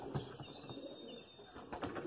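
Domestic pigeons kept in a home pigeon cage give low, throaty coos that repeat in soft pulses throughout, close by and fairly steady, with no voices over them.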